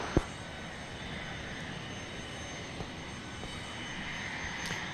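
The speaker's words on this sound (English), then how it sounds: "And now we've got Southwest number 1354 to wind Panama City" A Southwest Airlines Boeing 737-700 jet takes off from Dallas Love Field, a steady broadband engine roar heard at a distance in the open air, with one brief knock near the start.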